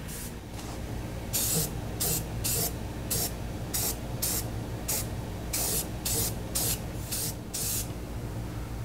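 Rust-Oleum spray paint hisses from an aerosol can in a series of short, sharp bursts of differing length, close and clear over a quiet background.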